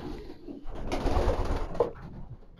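Racing pigeons coo softly inside a loft, a low throaty burbling that swells for about a second in the middle, with scattered rustling and faint bird calls around it.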